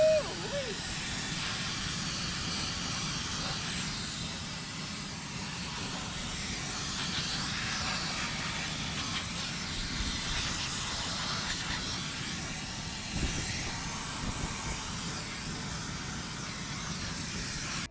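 A paint spray gun sprays in a long, steady hiss that holds fairly loud and continuous throughout, with someone talking over it at times.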